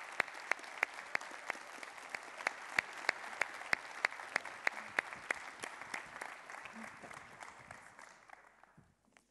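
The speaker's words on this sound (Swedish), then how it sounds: "En varm applåd." Audience applause at a talk welcoming a Swedish member of the European Parliament, with a steady patter of clapping led by a few loud, sharp claps near the mic before it tapers off to quiet.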